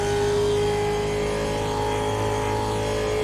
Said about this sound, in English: This is what race cars should sound like. Proper big American rumble.